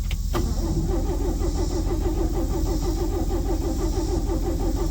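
A 1972 Chevy Custom 10 pickup that has sat unused for years cranks continuously with its starter, a loud, even rhythmic churning that runs the whole time without catching.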